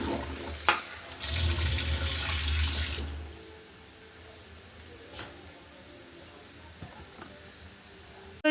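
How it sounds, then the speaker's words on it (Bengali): Tap water gushing into a kitchen sink while raw chicken is washed, a loud steady splash for a few seconds before the flow stops, followed by quieter handling sounds and faint knocks. "এবার চলো এইগুলো ভালো করে আমি জলে পরিষ্কার করে ধুয়ে নেবো"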